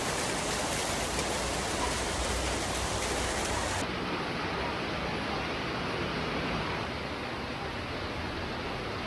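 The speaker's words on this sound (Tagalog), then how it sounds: "Nag-ulan na guys." Steady, loud rain falls continuously in a broad, even hiss, heavy downpour after a sunny day, with no clear voices over it.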